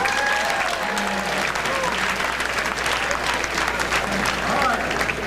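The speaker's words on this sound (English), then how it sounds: "Give them an applause and let them go." Loud, sustained audience applause fills a large room, with dense overlapping clapping throughout and a few voices and tones faintly mixed in beneath.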